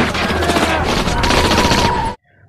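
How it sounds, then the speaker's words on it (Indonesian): Dense, continuous rapid gunfire from a gang shooting indiscriminately in a TV drama, loud and close, sustained for about two seconds before cutting off to near silence. "geng itu menembak membabi buta"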